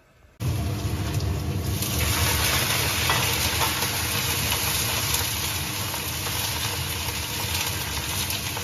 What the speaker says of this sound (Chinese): 炒点青菜呀